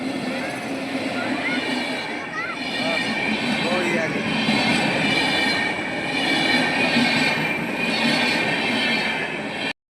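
A train rumbles through a level crossing close by, with continuous heavy wheel roar, rail clatter and squealing that stay loud throughout, and voices faintly beneath.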